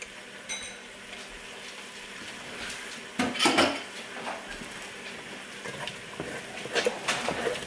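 Utensil scraping and clinking against a pan while eggs are scrambled beside tofu and carrots for gluten-free chicken pad thai, with soft frying underneath and a few louder scrapes midway.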